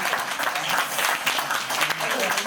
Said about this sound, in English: can we give a very huge round of applause to QUC and also Jasmine